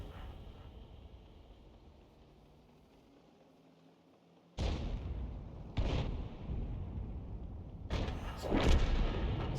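Self-propelled artillery firing shells in War Thunder: after a stretch of quiet rumbling ambience, several heavy booming gun blasts ring out, close and loud, with the last pair hitting hardest.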